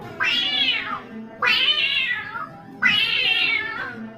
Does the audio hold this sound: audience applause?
no